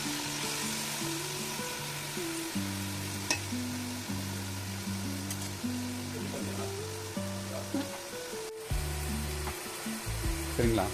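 Chopped onions fry in oil with cloves for a Hyderabadi nombu kanji, giving a steady soft sizzle with occasional faint clinks under a droning musical backdrop.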